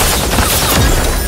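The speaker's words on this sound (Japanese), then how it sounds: "銃声が聞こえた。" Gunfire in the mecha shooter game Super Mecha Champions, a loud, dense burst of rapid shots with a low boom partway through, heard alone with no talking.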